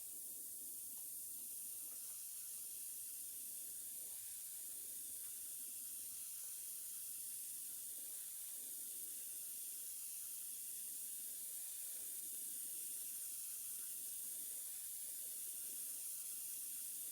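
Airbrush spray gun squirting paint onto a fishing lure, a steady faint airy hiss running unbroken throughout, quiet and close with no talk.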